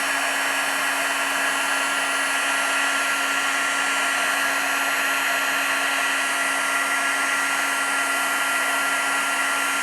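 A heat tool blows steadily while heat-setting black embossing powder on a stamped card, a loud, constant whirring roar of fan and heater that runs without a break.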